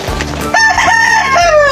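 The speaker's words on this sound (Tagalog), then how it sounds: "Tandang pala to, no?" A rooster crows loudly and close by, a single drawn-out, rising and wavering call with a sharp start.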